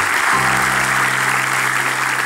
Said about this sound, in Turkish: alkışlarla yerine gönderiniz.